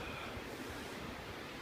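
A flooded river in winter rushes in a steady, dense roar, broad and continuous with no breaks or voices over it.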